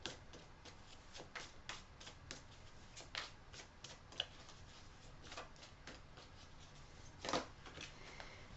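Tarot cards handled and shuffled close up: quiet riffling and flicking, soft taps of cards on a surface, recurring in short bursts with one sharper snap, faint and intimate.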